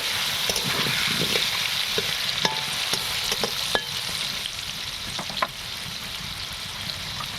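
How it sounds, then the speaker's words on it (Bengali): Potato pieces with salt and a little turmeric fry in hot oil, a continuous close sizzle broken by scattered crackles and stirring clinks. "নুন, অল্প হলুদ গুঁড়ো, দিয়ে আলুটা ভালো করে লাল লাল করে ভেজে নেব"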